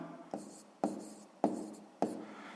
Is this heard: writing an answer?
yes